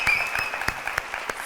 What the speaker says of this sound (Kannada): ಅದಕ್ಕೆ ಬರಲಿ ಜೋರಾದ ಚಪ್ಪಾಳೆ